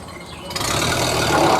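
A 1930 Ford Model A engine fires up after getting spark, a near, rough mechanical running sound that swells in loudness over a short stretch, with no talking.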